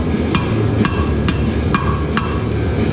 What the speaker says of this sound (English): Now I can take and hammer this over